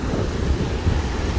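Atlantic Ocean surf and wind on the beach at Boca Raton, Florida: a continuous low rushing wash with gusty buffeting, no voices.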